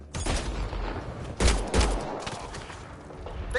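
Gunfire in Mass Effect: Andromeda: a couple of sharp, loud shot bursts punch through a rushing, noisy background, with a scattered fusillade quality across the short stretch.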